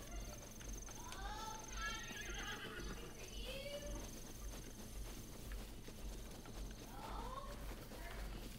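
A horse whinnies repeatedly in The Legend of Zelda: Breath of the Wild, short rising and falling neighs over a steady game music and ambience bed, with a voice briefly heard.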